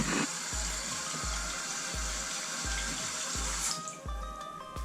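Water running steadily from a tap for rinsing during a short film shoot, a continuous hiss and splash with a faint regular low thump beneath it, near and alone without voices.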